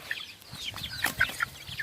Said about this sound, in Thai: สุ่มแรกครับ ก็เป็น ลูกไก่ไข่นะครับ โรดไอเลนเลส ครับผสมกับไม่ไฮบริดนะครับ